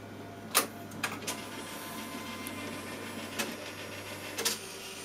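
A NeoFlex printer in print mode hums faintly and steadily while its carriage moves, marked by a few sharp clicks and mechanical clunks spaced across the quiet run.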